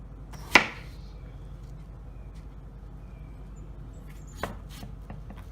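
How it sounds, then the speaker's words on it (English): A knife cutting onion into chunks, one sharp close chop followed by a long quiet stretch and a second fainter cut near the end, over low room hum. "Onion cleanup. Cut into chunks."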